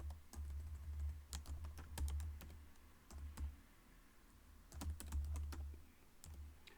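Keys clatter on a computer keyboard as a city name is typed, bursts of quick clicks separated by short pauses, close and fairly quiet over a low steady hum.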